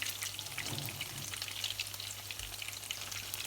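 Potato puff cakes fry in a pan over moderate heat, giving a soft, continuous sizzle with fine crackling spatters, fairly quiet and close, alone without talk.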